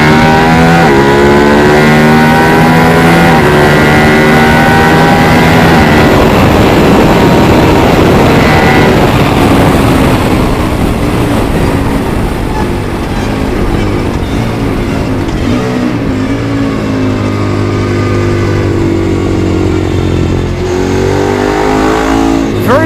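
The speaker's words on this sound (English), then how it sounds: "Very nice bike to ride on the track, the EBR 1190 RX." An EBR 1190RX sport motorcycle laps a race track, its engine loud and close with continuous revving that climbs and falls through gear changes, mixed with heavy wind roar over the whole stretch.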